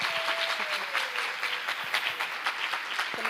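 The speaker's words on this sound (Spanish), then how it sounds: "dádelle tamén un aplauso moi forte a ela." An audience claps briskly at a short-film premiere presentation. The applause is steady and fairly close, with a faint sustained tone running beneath it.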